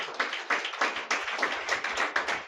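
Audience clapping at a church meeting in Kakinada, a crisp, rhythmic burst of roughly a dozen evenly spaced, unison claps ringing out in close succession.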